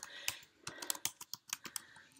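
Rapid typing on a computer keyboard, a string of about a dozen crisp, close key clicks in an uneven rhythm with short gaps, with no voice.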